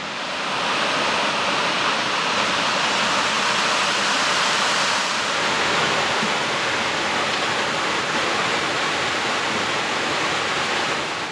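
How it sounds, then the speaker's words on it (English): A large waterfall cascade in Girrakool National Park on the Central Coast of New South Wales roars as a dense, loud, unbroken rush of falling water, steady from start to finish with no speech. "Wow, that's a big fall. Or cascade, whatever you want to call it."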